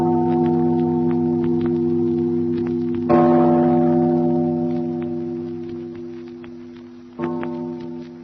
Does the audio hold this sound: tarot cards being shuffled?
no